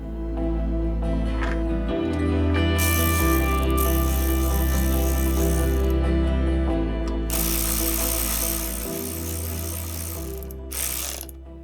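A ratchet tightening bolts through countersunk M8 holes to mount a fender on a Yamaha XV750 motorcycle, heard as steady close clicking over a continuous mechanical hum, with brief brighter bursts of ratcheting.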